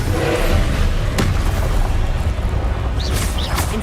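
Explosive fire spell from the Hogwarts Legacy video game, a dense rumbling blast with crackling debris that fills the clip loudly, with a sharp crack midway and brief high whooshes near the end.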